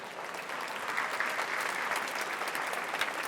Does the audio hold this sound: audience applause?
yes